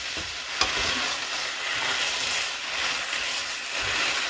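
A spoon stirs spaghetti carbonara in a hot pan, with continuous scraping and sizzling and a sharp clink near the start, close and fairly loud with no talking.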